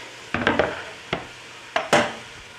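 Pieces of rump roast searing in a pot, several sharp clanks and scrapes of utensils against metal spaced through a quiet sizzle, fairly close, with no talking.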